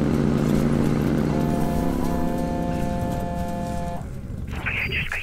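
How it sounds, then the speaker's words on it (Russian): A motorcycle engine in the Watch Dogs video game chugs in a rough, pulsing rhythm with steady tonal hum that shifts and fades after a few seconds, followed by brighter game sounds, loud and up close. "Мотоцикл аж пыхтит"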